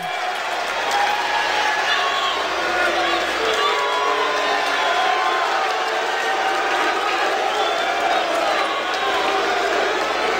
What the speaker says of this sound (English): The crowd appreciating this Cloud9 lineup that Jack has put together